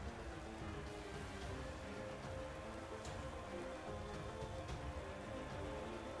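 Steady rain weather from the Pokémon Sword and Shield video game, a soft continuous patter at low level with no other sounds over it.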